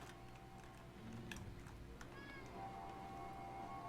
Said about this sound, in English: Oh, I hear a cat outside the door.